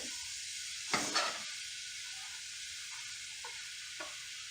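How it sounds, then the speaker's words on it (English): Half an onion hits a hot skillet for baingan bharta, giving a brief loud sizzling burst, then a quiet steady hiss with a few faint clicks. "We'll just take that, dump it in the skillet."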